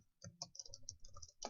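Quiet, quick clicking of keys on a computer keyboard, a short burst of irregular taps at close range with no voices.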